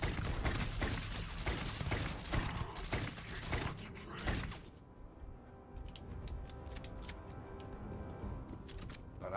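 Enemy gunfire in Starfield rattles in dense, rapid bursts for about four seconds, then drops to scattered, fainter clicks and mechanical ticks.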